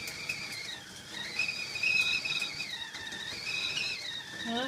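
A kettle whistles with a thin, wavering high tone that rises and dips in slow swells, moderately quiet and alone for several seconds.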